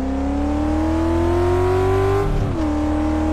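A car accelerating on a test drive in Car Mechanic Simulator 2014: a steady engine drone climbs in pitch for about two seconds, then dips briefly as if shifting gear, and keeps running loud and close with no talk.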